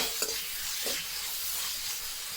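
Masala for a Kerala crab curry sautés in a pan, a soft steady sizzle with a couple of brief scraping stirs, quiet and close with no talking.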